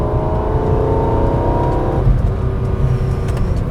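A naturally aspirated inline-six in a high-mileage BMW E46 M3 revs steadily and loud up close, its engine note shifting partway through as the pitch eases off, with no talk over it.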